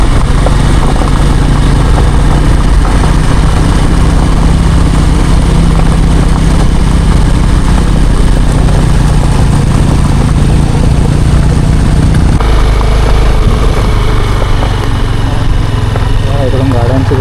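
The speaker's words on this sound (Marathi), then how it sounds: "इकडून गाड्यांची गर्दी बघा. सर्व बाईकच बाईक." A dense stream of motorbikes rides along a steep hill road climbing toward Tikleshwar temple, their engines forming a loud, continuous drone that shifts partway through, with voices mixed in.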